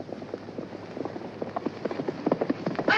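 Horse hooves clip-clop in an irregular, quickening patter that grows louder toward the end, close by and heard on its own without talk.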